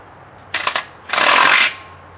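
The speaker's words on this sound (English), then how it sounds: "let's just tighten your bolt first" Power tool tightening a bolt during a Vortec 4200 engine swap into a 1967 Checker Marathon: a short stuttering burst of impacts, then a louder steady whirring run of about half a second, close and loud.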